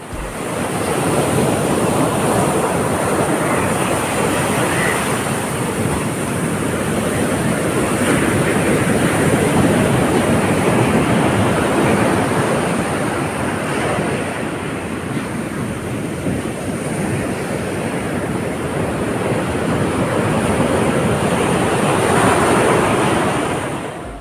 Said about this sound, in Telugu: సముద్రం దగ్గర ఎగసిపడే అలలు, వాటి సౌండ్ ఎప్పుడైనా విన్నారా?